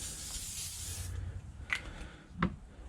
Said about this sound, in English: I'm going to use some spray silicone lubricant.